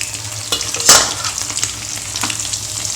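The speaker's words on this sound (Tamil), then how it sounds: "பொரிச்சிட்டு ஒரு நிமிஷம் கழித்து திருப்பி போடுவேன்" Mathi sardine fish fry sizzling in hot oil in a South Indian kitchen, a constant crackling hiss with a few sharper pops and a brief louder spatter near the start, close and without speech.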